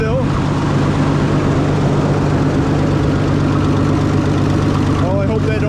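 An antique tractor engine, a 705, idles steadily and loudly with a low, throbbing chug that holds constant throughout, at a tractor auction.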